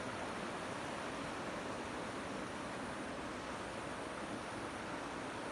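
The flooding Trishuli river, swollen where six rivers merge, makes a dense, unbroken roar of rushing water, loud and steady throughout with no talk.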